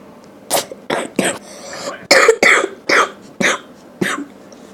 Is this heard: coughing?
yes